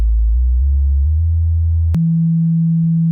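A Rane Seventy A-Trak DJ mixer's sine wave effect gives a loud, steady deep bass tone that jumps abruptly to a higher pitch partway through and holds there, with no voices.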